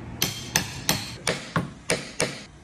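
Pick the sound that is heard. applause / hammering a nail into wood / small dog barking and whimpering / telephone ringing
hammering a nail into wood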